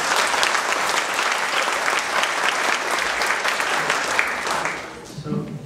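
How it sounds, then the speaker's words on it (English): Guests at a dinner dance applaud volunteers, a full, steady burst of clapping from a crowded room that dies down near the end, where a voice begins to speak. "big round of applause for them"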